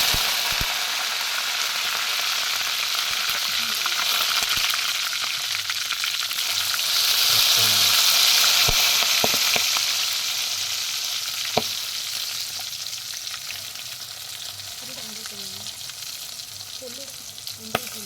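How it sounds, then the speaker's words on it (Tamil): Mustard seeds and curry leaves sizzle loudly in hot oil for a long stretch, a dense crackling hiss that swells midway and carries scattered sharp pops and spatters toward the end. "எண்ணெய் நல்லா காஞ்சிருச்சு கடுகு போடுறோம் கருவேப்பிலை"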